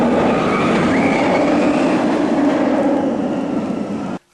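Nemesis, an inverted steel roller coaster at Alton Towers, roars past with a loud, steady rumbling rush of wheels on track lasting several seconds, close and dense, before cutting off abruptly.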